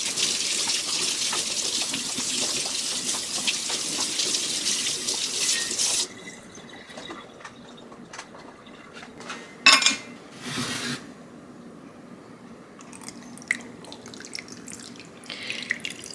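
Tap water gushes loudly into a sink over cured salmon set to soak, then cuts off, leaving scattered drips, clinks and light handling noises in a quiet kitchen.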